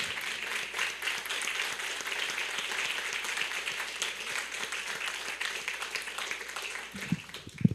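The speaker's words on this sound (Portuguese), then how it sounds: "Vamos aplaudir o nosso Rei." A church congregation applauds in worship, steady crowd clapping with distinct individual claps throughout, moderately loud, ending with a brief rustle and thump as it fades out.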